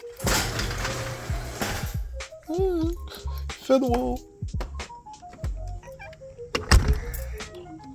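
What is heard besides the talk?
car door closing on a Mazda 3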